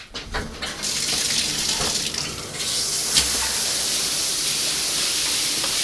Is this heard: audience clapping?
no